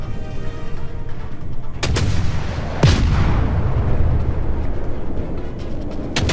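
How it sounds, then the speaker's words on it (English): Clemson destroyer main guns firing in the World of Warships naval game, with two heavy booming salvos about a second apart over a continuous rumbling battle backdrop, loud and close. "virtually anywhere you point the Clemson, you'll have at least four gun tubes available to deal some damage"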